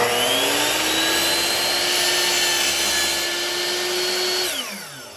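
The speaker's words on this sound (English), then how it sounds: "So at the miter saw, we're going to make a miter." A power miter saw cuts a miter in bathroom vanity trim, its loud motor whining at a steady pitch through the cut before spinning down at the end.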